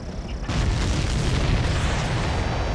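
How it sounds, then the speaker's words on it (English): A supply ship blows up in the jet combat video game Ace Combat 7, a sudden loud boom followed by a sustained, rumbling roar of blast noise. "Did you see that explosion? Looks like that's one of them down."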